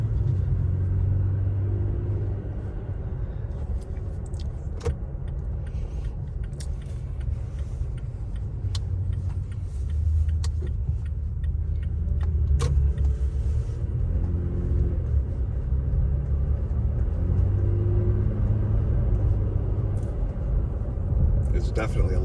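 A tuned, lifted Toyota Tacoma on heavier-than-stock tires drives along with a steady low engine and road rumble filling the cab, loud and continuous, with faint ticks and clicks over it.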